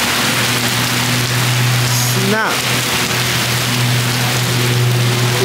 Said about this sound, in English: It just rained.